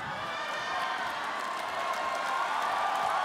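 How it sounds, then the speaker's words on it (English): A heavy Filipino crowd roars and cheers at a Macau fight between Geje Eustaquio and Adriano Moraes, a dense, sustained wash of distant voices that swells slightly toward the end. "The crowd here, the heavy Filipino crowd in Macau, appreciating it"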